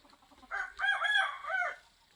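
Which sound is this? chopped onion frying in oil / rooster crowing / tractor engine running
rooster crowing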